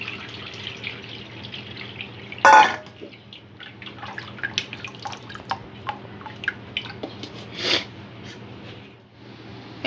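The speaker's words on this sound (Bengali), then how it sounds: "নুডলসের ওপর একটু ঠান্ডা জল ঢেলে দেব যাতে ওভারকুক না হয়।" Cold water poured over boiled noodles for street-style egg chowmein, a steady trickle with drips and splashes against a sink, close and fairly loud, with one sharper splash early on.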